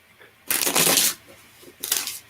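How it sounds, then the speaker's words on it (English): Playing cards get a bridge shuffle, a loud close riffling burst followed by a shorter second cascade as the deck is bridged back together, with no talk over it. "Ooh, nice little bridge shuffle."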